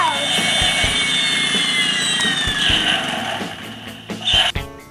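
The spinning rotors of a Matchbox Mission Elite Rescue Strike Hawk toy helicopter make a steady, close whine that slowly falls in pitch, with faint regular ticks underneath.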